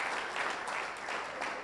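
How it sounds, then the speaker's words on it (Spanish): A church congregation at a ministers' gathering applauds, a faint, even wash of clapping heard from a distance for under two seconds. "Ese aplauso fuerte al Señor"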